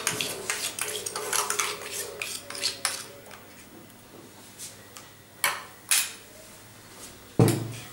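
Coriander chutney being spooned into a serving bowl, a run of close metallic clinks and taps of spoon on bowl, thinning to a few sharper knocks, with no talk.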